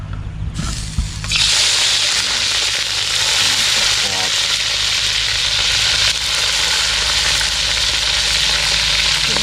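Minced village chicken larb, an old-style recipe, stir-fries in a hot pan with a loud, continuous sizzle, punctuated by occasional scraping stirs, close and steady throughout after a brief quieter start.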